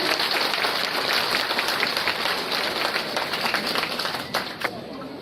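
Applause from a crowd at a prize-distribution ceremony, a steady patter of many hands clapping that carries on throughout with voices mixed in.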